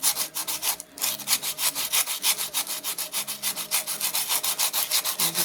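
Rapid, steady back-and-forth rasping of abrasive sanding a clay pot, rhythmic and close, with no talking.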